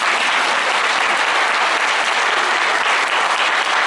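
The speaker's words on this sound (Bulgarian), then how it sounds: "Аплодисменти!" A theatre audience at a community cultural hall claps steadily for a stage performance, dense, loud applause that fills the space evenly from start to finish.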